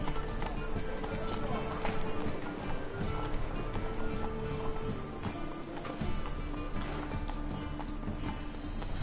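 Hoofbeats of a galloping horse in The Witcher 3 on PS4 run in a steady clip-clop rhythm throughout, mixed with game ambience and occasional spoken lines from the rider.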